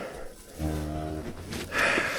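A cow and her calf on a cattle farm at calving time, one drawn-out low moo near the middle, followed by rustling and handling noise, with no talk.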